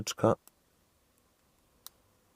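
A voice speaks briefly, then two faint, sharp little clicks of lock pins setting while picking a KASP K50073LD puck padlock follow, spaced apart in near silence.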